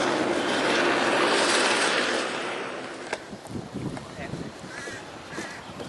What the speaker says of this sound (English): Well, here comes our helicopters again.